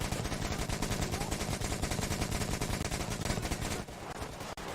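A Gatling gun in Metro Exodus fires a long, continuous rapid burst, loud and dense, then cuts off near the end, leaving a quieter ambient tail.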